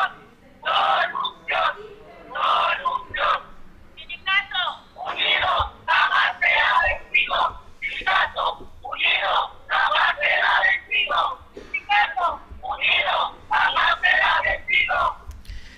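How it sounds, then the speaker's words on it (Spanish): Unionized workers staging a protest at a municipal building in Tlaquiltenango shout chants in repeated bursts, loud, raw and rhythmic, with short gaps between the yells and no calmer talk over them. "hemos escuchado esa arenga y ese grito que mantiene a los sindicalizados en protesta"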